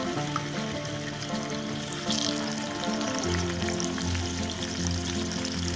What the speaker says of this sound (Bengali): এবার এক এক করে মাছের পিসগুলো আমি তেলের মধ্যে দিয়ে ভেজে নেব